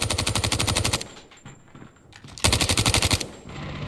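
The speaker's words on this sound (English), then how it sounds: "Sentry gun deployed." Automated sentry gun in a first-person shooter video game firing rapid, loud bursts of gunfire at close range, with a short pause between the two bursts.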